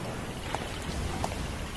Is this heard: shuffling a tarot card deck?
no